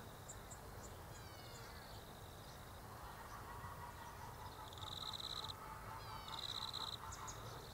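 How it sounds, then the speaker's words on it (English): Chickens cluck and call outdoors on a spring afternoon. Faint, distant squawking phrases come in repeated bursts over a low background hum. "The sound of chooks, yes."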